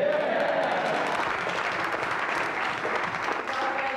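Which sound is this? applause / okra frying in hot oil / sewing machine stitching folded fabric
applause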